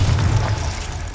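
Confringo fire spell blast in the video game Hogwarts Legacy, a heavy booming explosion with a deep rumbling low end that holds for about a second and rolls on, loud and near, no voices.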